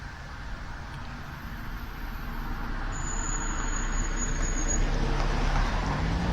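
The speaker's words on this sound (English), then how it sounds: "I'll just wait for this car to go past." A car passes on a nearby road outdoors during a rabbit-shooting outing, a steady broadband rumble that slowly swells louder toward the end, with no one speaking.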